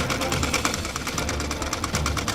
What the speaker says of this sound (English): I ran out of thread in my bobbin. This means that I have to rewind it